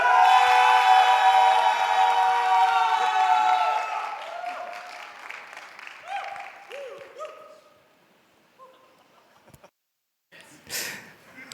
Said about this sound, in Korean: 축하의 박수로 맞이해 주시기 바랍니다